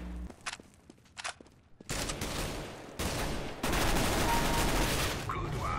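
Rapid bursts of automatic gunfire in Counter-Strike: Global Offensive multiplayer, loud and sustained for several seconds after a few sparse shots, with players talking over it.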